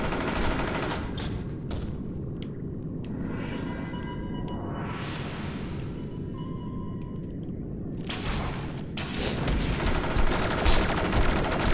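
Rapid gunfire bursts from the Champions Online video game crackle at the start and again near the end, with rising whooshing sweeps and a low rumble in between; no voices.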